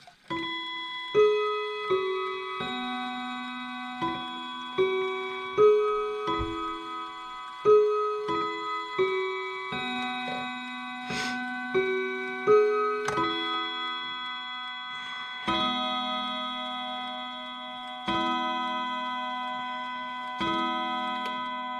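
A Bulova bookshelf clock rings out a long, clear chime melody of struck tones, each note ringing and decaying over about twenty seconds, close and loud with no voices.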